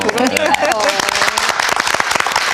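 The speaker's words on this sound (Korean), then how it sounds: "제발 박수 좀 많이 쳐주세요" Audience applause breaks out after a speaker's voice, brisk clapping that builds and continues steadily through the rest of the moment, with the voice briefly heard at the start.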